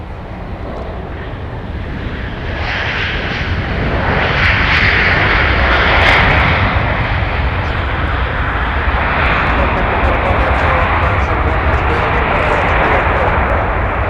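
A Sun Country airliner arrives at Minneapolis–Saint Paul airport, its engines a loud, sustained broadband roar that swells after the first few seconds and then holds steady, with faint wind buffeting on the microphone.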